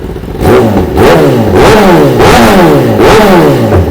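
A 1000cc sport motorcycle with a genuine aftermarket Leo Vince exhaust revving hard, loud close blips rising and falling in about four quick repeated throttle pulls, with no talking.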